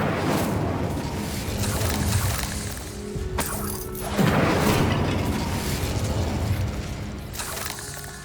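Fire spell cast in the Hogwarts Legacy video game on a GTX 1070Ti at medium settings, a roaring whoosh swelling into a loud booming burst midway, over continuous game ambience with no speech.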